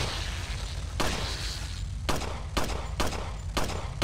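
Pistol gunfire in Resident Evil 4, a handful of sharp shots spaced unevenly about half a second to a second apart, each a short broadband crack over a steady low game rumble.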